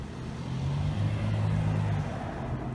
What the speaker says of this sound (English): Car comes by.